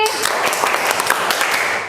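A classroom group claps in appreciation for a presenting team, giving a close, busy patter of many hands that runs steadily before tapering, with voices mixed in.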